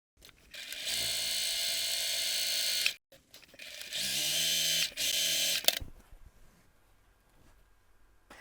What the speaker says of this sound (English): then we're going to top stitch both sides of the seam allowance